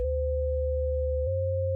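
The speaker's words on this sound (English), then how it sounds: "So it's almost like a sine wave modulating a sine wave." A Synthstrom Deluge synthesizer producing ring modulation, one sine wave modulating another, heard as a steady pure electronic tone with a low pulsing undertone that shifts pitch partway through.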